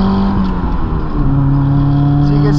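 Manual-transmission car engine revs steadily as it accelerates, a loud, continuous drone with a rising pitch after a shift, close and alone with no talk.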